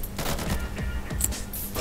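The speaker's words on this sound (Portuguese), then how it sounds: "Tô vendo os caras dando tiro" Gunfire in the game Insurgency, a dense crackle of distant rapid shots layered over rumbling low thuds, continuous throughout.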